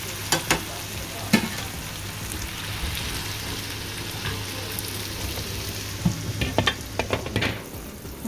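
Fish pieces coated in turmeric, chili and salt fry steadily in hot oil, a dense continuous sizzle with scattered louder pops and crackles near the start and toward the end.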